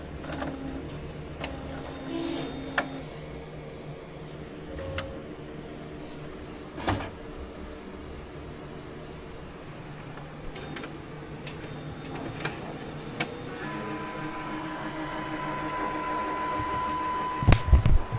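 An Epson L1300 printer converted to eco-solvent ink runs a head-cleaning cycle. Faint mechanical ticks, clicks and whirs come and go over a quiet hum, and a few louder knocks land near the end.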